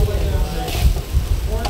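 Afghani-style beef tikka sizzling as it cooks, a steady frying hiss with soft crackles and the occasional clatter of turning, heard under a voice.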